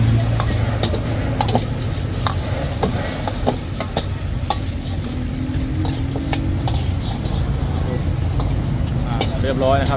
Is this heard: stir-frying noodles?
yes